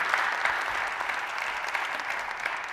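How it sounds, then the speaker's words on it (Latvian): Steady applause from a conference audience following a talk at a sports communication event, dense and continuous clapping filling the room without any talking over it. "aplaus!"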